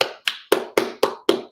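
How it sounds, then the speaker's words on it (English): A single nearby person claps six times, sharp and evenly spaced, a small round of applause from home during a Techstars Startup Weekend Canada kickoff. "let's all give them a round of applause"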